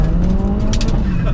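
Ford Focus RS Mk1 with a turbocharged 2-litre Duratec engine and upgraded Garrett turbo, tuned to about 370 bhp, pulling hard under acceleration: a loud, steady engine drone with faint tire noise, close and continuous through the short stretch.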